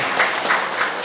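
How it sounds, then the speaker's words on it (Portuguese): Brief burst of congregation applause in a Brazilian church service, a soft, dense patter of clapping with slight swells. "Pode aplaudir a Jesus, irmãos."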